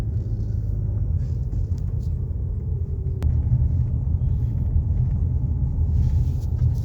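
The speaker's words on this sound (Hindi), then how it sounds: "जैसे पहले पिकअप था वैसे पिकअप आया या नहीं आया, वो देखते हैं अब" A 2015 Toyota Harrier hybrid on a test drive after engine tuning and service, heard from inside as a steady low road and engine rumble, with no talking.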